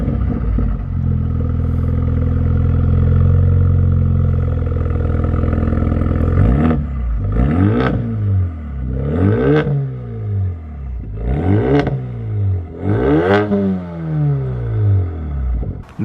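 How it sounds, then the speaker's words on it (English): A Mercedes-AMG A35 with a stage 1 tune and Milltek exhaust idles with a low steady rumble, then blips its throttle in five sharp revs, each rising fast and falling back, loud and close with no talk. "a fruity Milltek exhaust, which really livens the car up"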